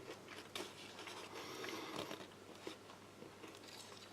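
Quiet, close crunching bites into a crunchy chocolate bar with crispy bits, a few crisp snaps and chewing sounds, no voices.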